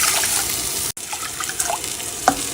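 Water running steadily into a cooking pot for rice, a continuous close splashing stream with small gurgles and a brief break partway through.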